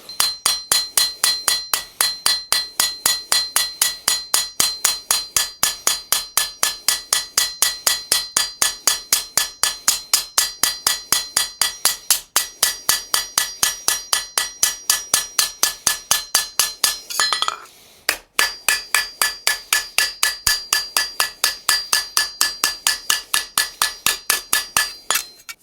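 A hammer strikes a forged steel sword blade over and over to give it a hammered texture, loud, sharp, evenly spaced ringing blows close by, with one brief pause partway through and no talking.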